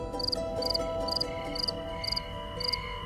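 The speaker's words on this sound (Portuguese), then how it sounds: "um engenheiro de gravação, em uma noite estrelada, gravou grilos em seu quintal" Crickets chirp at night in a backyard, sounding in six evenly spaced bursts of rapid high trills over a soft, steady background hum.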